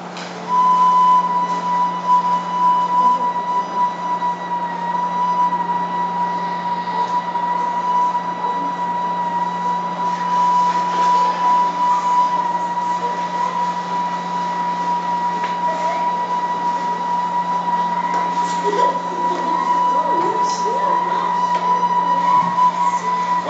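A flute holds a single sustained B (Si) note for over twenty seconds, the pure tone steady and fairly loud with little variation, over a faint constant low hum.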